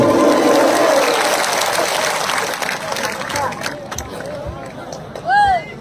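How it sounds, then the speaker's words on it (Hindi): Crowd applause at a Tipra Motha political party event: dense, loud clapping that fills the opening seconds, then thins and fades beneath murmuring voices, with a short tonal cry near the end. "ताली मारिए"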